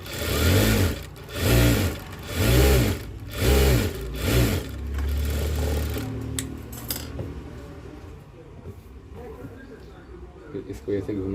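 Sewing machine stitching a blouse lining, running in five short bursts with pauses between, then quieter handling of the fabric and some speech, fairly close and loud.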